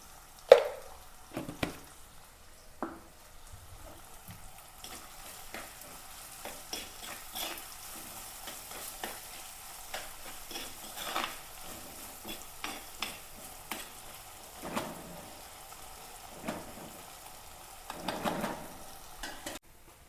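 Green chilli, ginger and garlic sauté in a pan with a soft, low sizzle, overlaid by intermittent stirring scrapes and a few clinks, close but quiet, with no speech.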